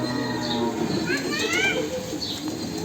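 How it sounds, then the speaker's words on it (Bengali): A silver-pattern male pigeon coos in a few soft, rolling phrases close by, under steady background noise, with people talking nearby. "এটা নর কবুতর সিলভার প্যাটার্নের"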